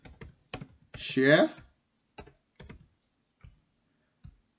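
Keystrokes on a computer keyboard while entering a search into Google, a few sparse clicks and short bursts spread across the clip around a brief stretch of speech.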